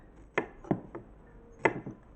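A knife chops the ends off bilimbi fruit on a cutting board, giving four or five sharp, close taps in an uneven rhythm against quiet surroundings.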